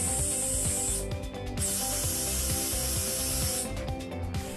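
Air valve on a National Seating NS2000 HP suspension truck seat hissing as it inflates the lumbar support, with a steady close airflow hiss broken by brief valve clicks and a pumping, ratchet-like rhythm throughout.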